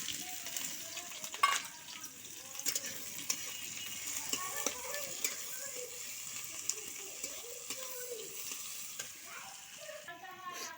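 Onion, green chilli and nigella seeds frying in oil in a pan, a soft steady sizzle with intermittent scraping and clicking of a spatula stirring, fairly quiet and close, with brief faint talk.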